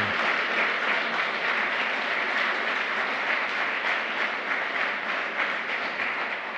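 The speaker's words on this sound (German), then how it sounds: "Herzlichen Dank nochmal und großen Applaus." Audience applause fills a lecture hall at the close of a talk on Germany's energy transition, a dense, steady wash of clapping that holds at full strength for several seconds without voices.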